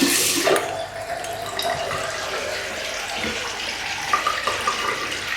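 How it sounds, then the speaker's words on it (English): Water poured into the pump of a homemade bath-spa controller, a steady splashing and trickling wash that starts with a louder gush and settles into a continuous running flow with a few small drips near the end. "So I'm going to put a little bit of water into the pump"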